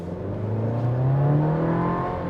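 A 2026 GMC Canyon AT4 pickup accelerates hard under turbo boost, its engine note climbing steadily in pitch, close and loud from inside the cab with no talking.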